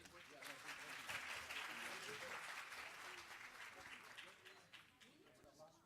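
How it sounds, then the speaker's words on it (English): Applause at a pharmacists' general assembly in a Chicago ballroom, a steady swell of clapping from a large audience that tapers off toward the end, with voices mixed in. "Let's give everyone a round of applause."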